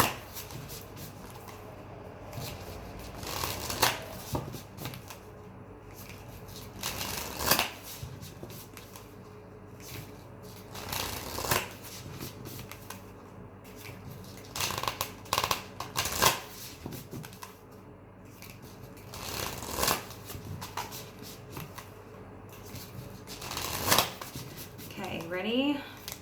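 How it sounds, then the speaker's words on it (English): Playing cards are riffled and shuffled over and over in repeated bursts, close up, with a steady low hum between shuffles. "You've been shuffling for so long."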